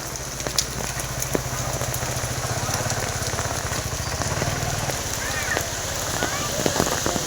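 Rain falls steadily, a dense crackling patter with scattered sharp drops and a low engine hum underneath for a stretch, as voices talk faintly nearby.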